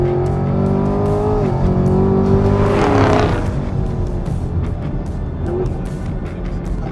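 A 2020 Mustang Shelby GT500 or Camaro ZL1 races hard on a track, its engine loud and close, revving high and then dropping through quick downshifts with throttle blips before settling into a steady roar.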